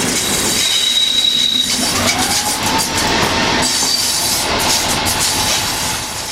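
A British Rail train with SIG units paired with a Class 73 passes close by, wheels squealing and rolling loudly with a steady hiss throughout.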